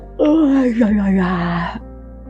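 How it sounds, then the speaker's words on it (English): During a menopause yoga stretch with arms raised overhead, a person lets out one drawn-out, voiced yawn that slides downward in pitch, close and clear over a quiet room. "take a big yawn"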